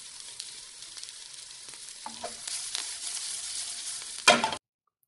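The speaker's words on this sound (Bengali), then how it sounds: "মাছটা বেশ কিছুক্ষণ ধরে উল্টে পাল্টে ভেজে তুলে রেখে দেব একটা পাত্রে" Small fish frying in oil in a pan and being turned over, a steady close sizzle that grows louder midway, with a sharp scrape of a spatula just before it cuts off abruptly.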